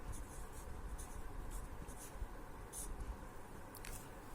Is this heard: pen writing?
yes